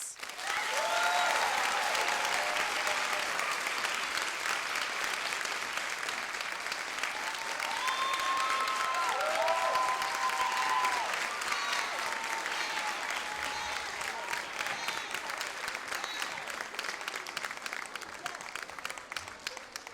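Sustained applause from an audience standing after a spoken-word performance, a dense wash of clapping that holds steady for the whole stretch, with cheering voices rising above it in places.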